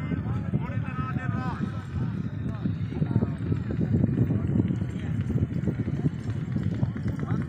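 Horse hooves clip-clop at a running pace during a horse-riding event, the rhythmic hoofbeats mixed with crowd noise and voices talking throughout.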